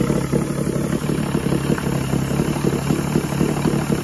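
A 1986 Force 85 hp outboard motor on a Bayliner boat idles steadily, a low continuous running hum with light mechanical clatter, close and even throughout without speech.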